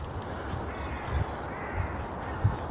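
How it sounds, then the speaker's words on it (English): A crow caws a few times at spaced intervals, moderately distant, over a soft outdoor background hiss on a sunny morning walk. "the crow says"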